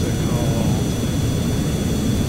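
Continuous loud roar of a jet engine from the Arado Ar 234 jet bomber prototype flying in Kerbal Space Program, steady and close throughout.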